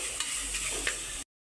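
Ivy gourd masala fries in a pan with a steady close sizzle, while a few soft stirring scrapes sound over the hiss before it cuts off abruptly.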